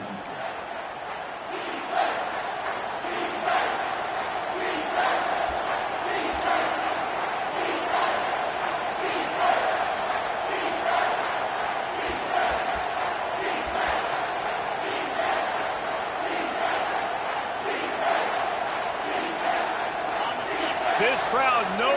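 A stadium crowd in the NCAA 25 college football video game roars steadily and loudly throughout a late-game defensive stand, with rhythmic chanting swells and game commentary talking over it.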